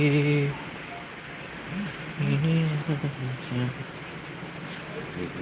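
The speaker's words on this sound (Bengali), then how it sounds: "এই বৃষ্টি" Rain falling in Japan, a steady broadband hiss running under a person talking in the foreground for most of the clip.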